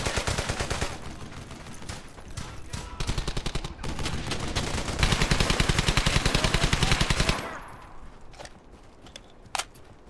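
Sustained volleys of small-arms and machine-gun fire from several squads firing on one German squad in the WWII video game Brothers In Arms: Hell's Highway, loud, dense and close, easing into a quieter stretch with a final lone shot.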